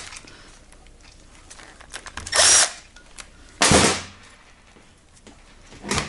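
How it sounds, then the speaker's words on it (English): An impact driver gives two short bursts, a pause between them, as it backs out Phillips-head screws from a GY6 scooter engine on a workbench, close and fairly loud against a quiet room. "I'm using the impact to remove, not to install."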